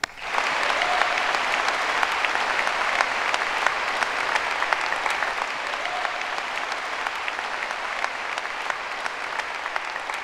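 Steady, sustained applause fills a university graduation ceremony in Edinburgh, as a large audience claps continuously and evenly for about ten seconds after a call to honour contributors.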